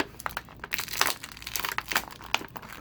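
Plastic packaging crinkles and crackles in quick, irregular bursts as it is pulled off a Power Rangers Lightning Collection Pink Ranger figure, close and fairly loud, with no talking.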